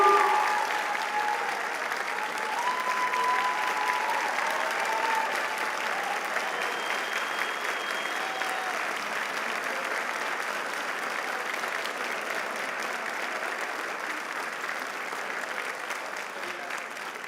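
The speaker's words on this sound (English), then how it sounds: "let's give these young men and women who today have taken this critical step for our outstanding profession a round of applause." Sustained audience applause at a dental school white coat ceremony, a large crowd clapping steadily and loudly for a long stretch, with faint voices and cheers mixed in.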